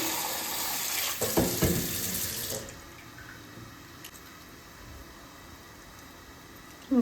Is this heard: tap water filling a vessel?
yes